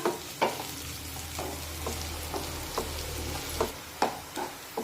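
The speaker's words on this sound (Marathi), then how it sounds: "आता हा कांदा मध्यम आचेवर छान सोनेरी रंगावर परतून घेऊया" Onion frying over medium heat for a dry moth bean dal, a continuous soft sizzle with regular stirring clinks and scrapes of a spoon on the pan.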